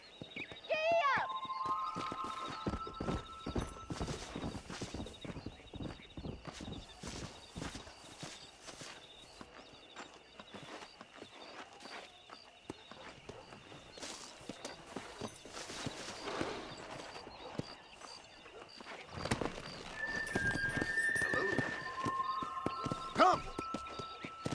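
Horse hooves clop at a steady riding pace in the Red Dead Redemption video game, a dense rhythmic patter with a whinny near the start and a few other game sounds near the end.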